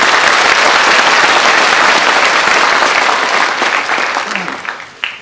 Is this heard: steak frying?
no